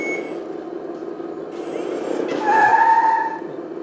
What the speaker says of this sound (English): this engine sound we can change